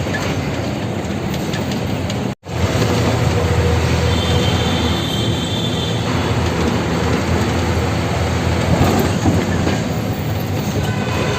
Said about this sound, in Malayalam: മുകളിൽ പോണത് ഇതിൻ്റെ അപ്പുറത്ത് റെയിൽവേ ട്രാക്കാണ്